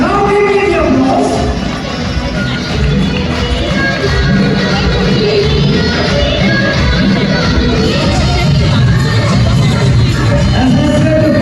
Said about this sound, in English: now we need your applause.